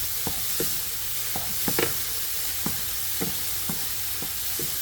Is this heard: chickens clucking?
no